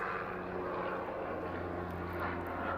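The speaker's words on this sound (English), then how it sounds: "Of course, when I'm filming, there are planes going by." Airplanes pass overhead as a broad, steady engine drone, moderately faint and continuous throughout with no talking.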